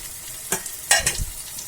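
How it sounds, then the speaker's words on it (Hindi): Masala for paneer bhurji frying in a pan, with a few soft stirring scrapes and brief sizzling bursts over a quiet background. "मसाला हमारा भुन चुका है।"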